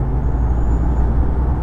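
Heavy truck spreading sand while driving ahead on a hot highway in Sumatra, a loud, close, continuous low engine rumble and road roar with a faint thin whine above it.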